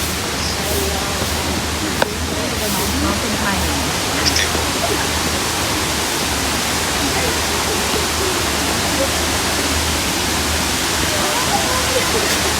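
Antipolo Falls pouring down, a loud, dense and unbroken roar of falling water heard close up, steady throughout with a faint voice now and then under the rush.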